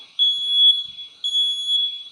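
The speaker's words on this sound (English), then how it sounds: "Okay, alarm went off." Two long, shrill smoke alarm beeps, triggered as a test of an eufy home security system, sound close by, with a short break between them and steady, piercing pitch throughout.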